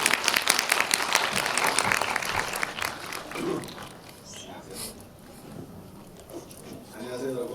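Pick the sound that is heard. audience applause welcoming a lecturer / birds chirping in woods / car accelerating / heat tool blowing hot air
audience applause welcoming a lecturer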